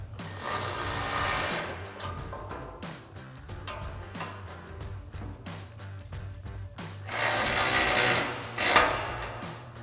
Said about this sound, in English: we'll take that 10mm socket and Allen wrench to tighten these down